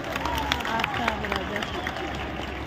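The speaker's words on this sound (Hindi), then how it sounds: "तो ताली बजा के बता दीजिए।" A festival show audience claps in a dense, steady patter of many hands. A voice talks loudly over it throughout.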